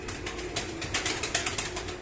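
Pigeons, racing birds kept in a loft, give soft cooing and rustling with brief wing flutters, close by and fairly quiet, with no talk over them.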